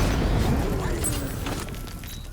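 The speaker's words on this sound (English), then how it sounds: "I can use the power winch to trigger a controlled explosion." Controlled bomb explosion in Batman Arkham Knight, triggered with a power winch on an exposed payload in the cauldron: a loud low rumbling boom that fades gradually over about two seconds.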